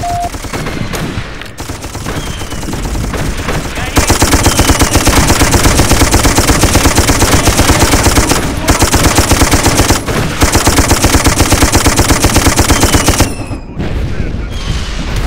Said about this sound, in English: Get your ass on that gun and provide cover fire.